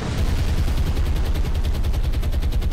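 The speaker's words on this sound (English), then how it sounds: "Two torpedo hits there." Torpedo hits explode against a ship in the naval video game War on the Sea, a loud, dense, continuous roar of blasts and rumbling that fills the whole stretch without any voices.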